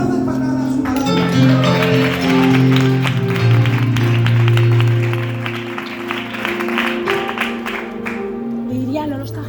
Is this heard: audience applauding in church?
yes